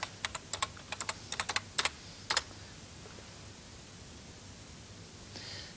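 A search query is tapped out on a microcomputer keyboard: a quick run of sharp, close key clicks in small clusters, then quiet background hiss.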